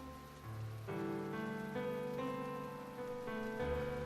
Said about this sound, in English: In the afternoon, the rain slowed to a heavy drizzle.